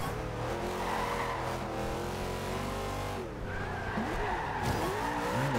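A Dodge Charger skidding in the racing video game Forza Horizon 2: a continuous loud engine roar with long squealing tire slides that rise and fall through the corners, and no talk.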